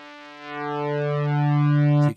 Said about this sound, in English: And then we have a pulsed wave, which changes the kind of shape